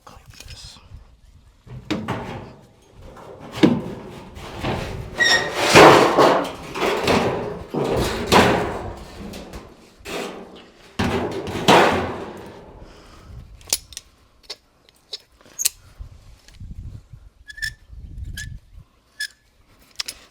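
Metal clamps click and clank onto a car body panel during a street-legal NASCAR bodywork build, a handful of sharp, close metallic snaps and rattles, followed by quieter scattered ticks near the end.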